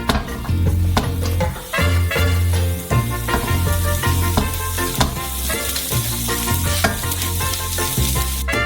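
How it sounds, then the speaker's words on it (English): Vegetables frying in a hot pan on a stove, a steady close sizzle with occasional stirring clacks and scrapes running throughout, without speech. "We'll put some vegetables in one of them."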